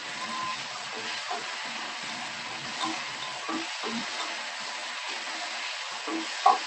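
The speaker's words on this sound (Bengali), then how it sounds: "এটাকে ভালো করে নাড়বো।" Onion and mixed vegetables fry in a pan in a Bengali-style kitchen, a steady soft sizzle broken by occasional scraping stirs, close and even throughout.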